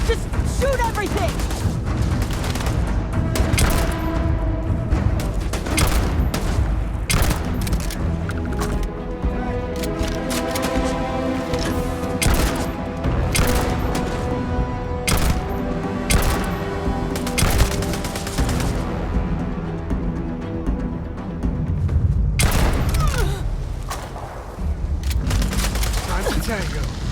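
Heavy gunfire from a Starfield firefight fills the scene, with dense, continuous bursts of rifle and automatic shots and occasional booms, loud and close throughout, and voices shouting in the mix.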